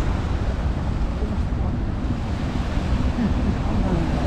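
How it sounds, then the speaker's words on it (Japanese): Wind-whipped ocean waves with whitecaps roll against the coast, a steady, loud roar of surf and gusting wind that fills the whole stretch without a break. "白波がすごく立ってきました"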